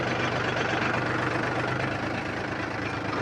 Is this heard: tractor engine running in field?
yes